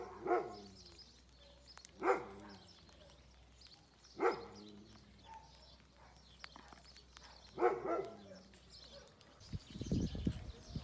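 Dogs bark outdoors near Santiago on the Camino, four separate loud barks spaced a couple of seconds apart at moderate distance, followed by a rustling, wind-like burst.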